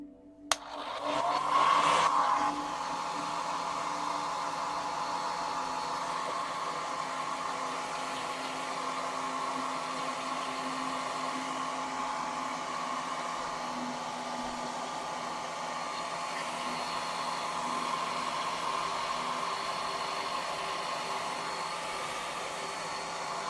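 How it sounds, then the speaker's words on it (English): A hair dryer blows steadily on a painted miniature, a loud, close whine and rush of air that switches on sharply and runs unbroken for over twenty seconds. "So it'll blow dry quick."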